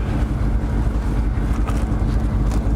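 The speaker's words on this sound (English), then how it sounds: "the car is just idling and rumbling along as we go" A 2011 HSV Clubsport R8 supercharged sedan engine idles with a steady, loud low rumble, continuous throughout with a constant buffeting wind-like roar over it and no speech.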